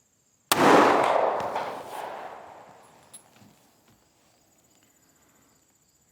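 A deer rifle fired at a target 100 yards away outdoors: one sharp, loud crack with a long rolling echo that fades over a few seconds into quiet, followed by a faint later tap.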